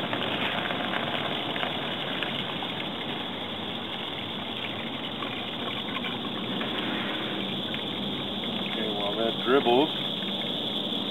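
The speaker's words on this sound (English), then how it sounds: "Now I can open up the valve and drain my Y traps." Water drains from an opened valve on the Y traps of a cartridge filter system, a steady rushing gush that continues throughout, with a brief voice near the end.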